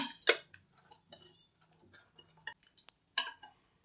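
Cooked toor dal being mashed in a metal pot for sambar, with close clinks and scrapes of a utensil against the pot in an irregular rhythm, no voices.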